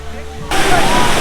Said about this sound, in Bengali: পানির আওয়াজে বোঝা যাচ্ছে ঝর্ণার তীব্রতা